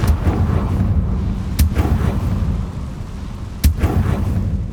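The Confringo blast spell in Hogwarts Legacy, heard as booming explosive impacts with a few sharp cracks spaced over several seconds, loud and close, with no voices.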